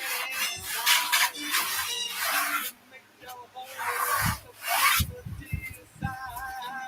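Chalk being rubbed off a painted surface, repeated bursts of rasping friction strokes close up, with brief pauses between passes and no talk.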